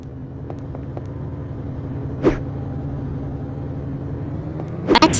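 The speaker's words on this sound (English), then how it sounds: "Look, the tire of the car is spinning on its own." A driverless car's tire spins on its own in SAKURA School Simulator, giving a low, continuous motor rumble. A single sharp click comes midway and a burst of clatter comes near the end.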